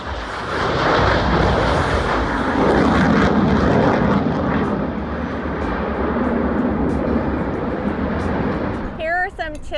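Radial piston engines of the B-29 bomber named Doc rumble loudly at an outdoor air show, a broad steady roar throughout with a brief voice near the end.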